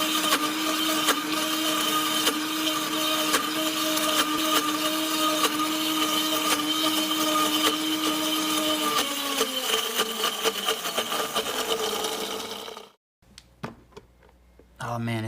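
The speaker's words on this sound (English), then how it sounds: "Around the 1-minute mark, you'll hear a high-pitched chugging sound." A Vitamix Professional Series 750 blender churns peanut butter with a loud, steady high-pitched motor whine and rhythmic chugging, then slows and cuts off, leaving near silence.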